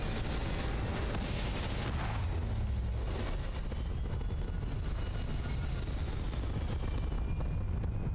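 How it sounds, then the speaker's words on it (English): Spaceship thrusters fire at takeoff in Starfield, giving a steady, loud, broadband roar that holds for the whole stretch with only small surges, and no voices over it. "All thrusters firing."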